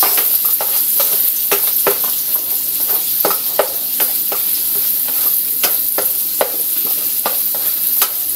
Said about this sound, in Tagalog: nilagay ko na yung ating bawang sibuyas,